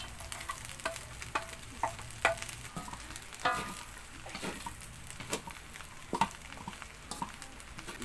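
Kangkong stir-fried in a pan with oyster sauce, giving a steady crackling sizzle with scattered sharper pops and stirring clatter throughout, close and fairly quiet.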